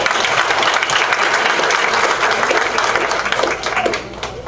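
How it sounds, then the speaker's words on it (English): Loud, close applause from an audience at a school board meeting fills the room as students are honored, a thick burst of many hands clapping that carries on strongly before easing off in the final second. "Give them another round of applause."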